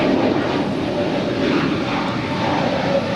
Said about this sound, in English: Lufthansa Queen is now pushing back from Tom Bradley